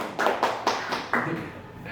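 Podcast hosts fake a round of clapping, a handful of sharp close taps in an uneven rhythm, loud and dry with a little chatter around them.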